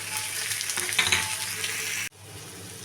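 Tomato with salt and turmeric sizzling in a wok, a dense, even frying hiss with light stirring that stays close and steady, then drops sharply to a quieter sizzle near the end.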